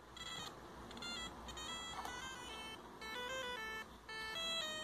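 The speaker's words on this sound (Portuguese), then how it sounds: "Esse é o som sem amplificador, com a microbit direto, né, o pino da microbit 0 e o GND direto aqui no falante." Tones from a small loudspeaker wired straight to a micro:bit pin 0 and GND with no amplifier: a thin, buzzy, melodic beeping tune of stepping pitches, steady and faint, with no talk.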